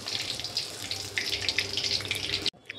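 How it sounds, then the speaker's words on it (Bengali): Batter-dipped brinjal slices sizzle in hot oil in a wok, a dense crackling hiss with brief pops that cuts off abruptly just before the end. "আবারও একটা বেগুন আমি এইভাবে ভেজে নেব।"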